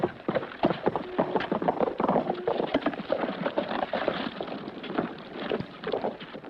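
Hooves clip-clop in a fast, continuous rhythm with rustling and wind noise, fairly close and steady throughout.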